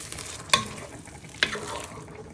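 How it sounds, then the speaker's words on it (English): A sausage sauce being stirred in a pan over low heat, with a soft continuous bubbling sizzle broken by two sharp spoon scrapes about a second apart, close up, with no talk. "And just give that a little bit of a stir."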